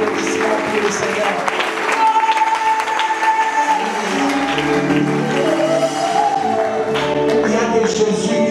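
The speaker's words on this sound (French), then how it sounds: "Est-ce qu'on peut exagérer avec des applaudissements pour le Seigneur?" Applause for Jesus at a church gathering in Likasi, a steady wash of clapping lasting throughout, mixed with voices and sustained tonal sounds from the room.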